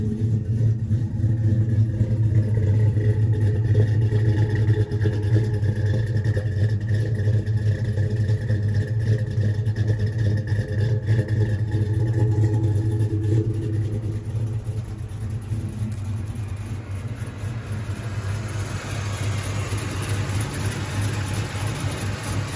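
A Chevrolet Silverado with a built 6.0 LS swap engine idles rough: a steady, loud, low rumble that continues throughout and softens slightly in the second half, with no talking.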